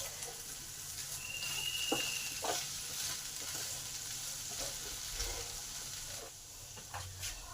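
Potatoes frying in a covered pan for taal momo, a soft, steady sizzle with a few faint scrapes and clinks throughout, fairly quiet and without talk.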